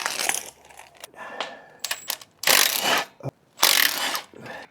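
A ratchet turns a Torx bit on a Fiat Doblo 1.6 Multijet during clutch and gearbox work, giving bursts of rapid clicking broken by short pauses and clanks of metal, close and loud.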